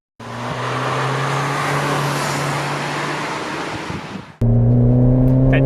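A Ford Focus ST with the Mountune MP215 package driving, a steady engine drone heard from inside the car that cuts off abruptly and returns louder and more tonal, with no talk.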